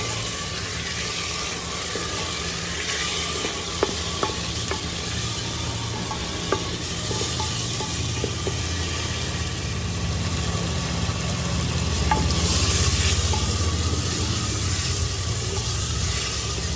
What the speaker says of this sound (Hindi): सबसे पहले हमने चिकन डालना है 1 पाव और इसको हमने फ्राई करना है।